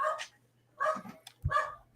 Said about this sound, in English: this dog's barking up a storm